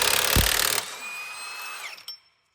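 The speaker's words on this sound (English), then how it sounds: "a bit of noise from the rattle gun here" A rattle gun with a 24mm socket hammers on a crank pulley bolt in a short loud burst, then the motor whines down to a stop with a faint click after.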